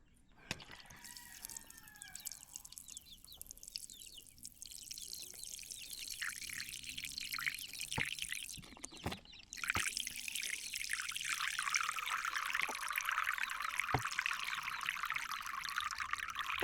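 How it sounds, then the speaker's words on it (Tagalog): Water poured while cleaning a chicken waterer on a poultry farm, a trickle that swells into a steady, close splashing stream, with brief clunks of handling mixed in. "At lilinisan ko itong painuman nyo."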